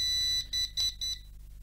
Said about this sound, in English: It just keeps beeping.